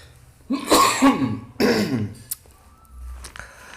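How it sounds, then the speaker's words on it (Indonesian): Two heavy, raspy coughs from a man close to the microphone, followed by a brief throat-clearing sound and quiet room tone. "Batuk."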